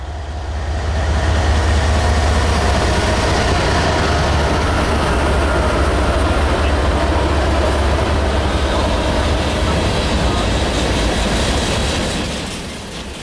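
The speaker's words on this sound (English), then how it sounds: "This was a westbound with two Union Pacifics and one NS Evo leading a manifest train." A manifest freight train led by two Union Pacific locomotives and a Norfolk Southern Evolution-series unit rumbles past at night, a loud, steady roar of engines and wheels that swells in and fades slightly at the end.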